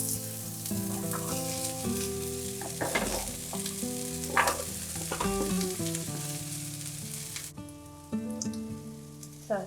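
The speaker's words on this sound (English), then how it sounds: "So stir fried the vegetables for about 2 minutes" Garlic, carrot and bok choy stir-frying in a hot pan, a steady loud sizzle with scraping stirs over a music backing that stays throughout.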